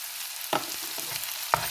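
Vegetables sauté with salt in a pan for tomato rice: a steady, close frying hiss broken by two sharp utensil knocks against the pan.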